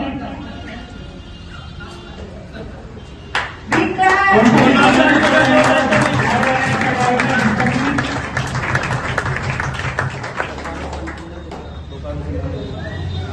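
An audience breaks into loud, sustained clapping to welcome a guest at an office opening in Daltonganj, swelling suddenly and holding for several seconds before thinning out, with a voice speaking over it.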